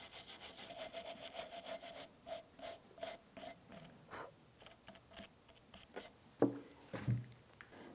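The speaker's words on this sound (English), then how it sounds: "first I'm going to take a brush and get rid of all this rust" Rust brushed off a rear brake caliper bracket on a 2011-2019 Ford Explorer: rapid rhythmic scrubbing strokes, close and fairly loud, about two per second, then slowing into a few irregular scrapes and clanks with no talking.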